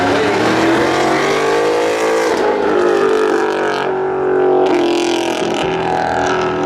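Loud engines roar and rev as a Porsche and a Mustang launch side by side off the line at a spectator drag race, the pitch climbing through gear changes, with a brief dip and a surge mid-run.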